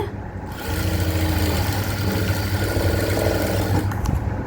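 A sewing machine stitching blouse fabric hums steadily and close after a brief quiet start, running continuously with a low motor drone and fine rapid needle texture.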